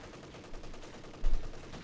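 Company of Heroes 2 battle fire from an anti-tank rifle and dug-in heavy cannon, faint distant shots under a rumbling background, with one heavier thump near the end.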